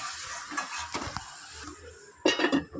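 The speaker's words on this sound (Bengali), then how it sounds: "এবারে ভালো করে নেড়ে চেড়ে ঢেকে দেবো" A spoon scrapes and clanks against a cooking pot as spiced vegetables are stirred for a Saraswati Puja lunch, several close metallic knocks and scrapes in short bursts with no talking.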